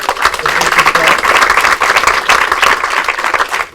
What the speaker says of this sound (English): So let's give a round of applause, first of all, to our Director of Public Works